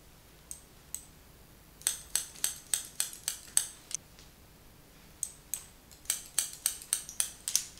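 Scissors cutting a one-length outline in hair at a salon: crisp, close metallic snips, a few isolated cuts early, then steady rhythmic runs of clipping with brief pauses between, and no talking.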